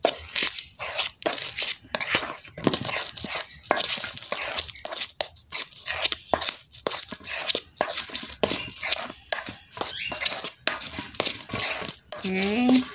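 A utensil scrapes and clinks around a bowl in repeated rhythmic strokes, close and fairly loud, stirring batter for steamed donuts.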